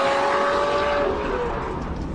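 A Lamborghini Murcielago LP640 engine roars loudly and steadily, a rising tonal whine holding for about a second and a half before the revs shift, with broadband exhaust noise throughout and no voices.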